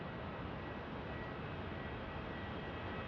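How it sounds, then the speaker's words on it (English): Airliners taxi and land at Phoenix Sky Harbor Airport, heard as a faint, steady broadband engine rumble from a distance with no distinct passes or voices. "WestJet pushing back, Air France coming in"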